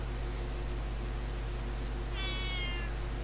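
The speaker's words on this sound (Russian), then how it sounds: "It's just a cat." A cat meows in the video game ReTurn Runaway, one short drawn-out call rising out of a steady low background hum near the end, heard alone with no talking.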